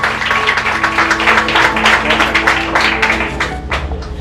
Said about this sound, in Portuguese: Você pode aplaudir Jesus com uma alegria?